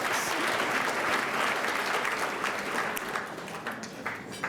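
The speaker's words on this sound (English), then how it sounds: "So give yourself a round of applause." A room full of people clapping, dense and even throughout, thinning slightly toward the end.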